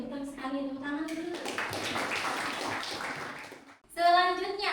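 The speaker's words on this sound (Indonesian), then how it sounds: "Tepuk tangan dulu." A classroom group claps briefly in a scattered burst between stretches of voices, with speech before and after the clapping.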